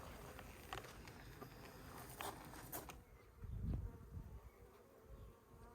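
Honeybees buzz around an opened hive while frames are being pulled, a close, irregular hum with brief louder passes near the listener and some soft handling noises, no talk.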